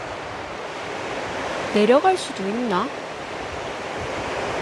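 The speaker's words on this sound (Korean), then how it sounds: "계곡 물소리 좋다" A mountain valley stream flows among large rocks in Geochang, South Korea, giving a steady, broad rushing wash that continues throughout while a voice speaks briefly in the middle.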